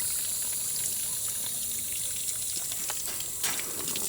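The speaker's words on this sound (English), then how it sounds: "Now when the water comes through the bag like that, it's going to dry." Water trickles and drips as it drains out through a fabric grow bag, a faint soft patter with small splashy drops, quiet and without talk.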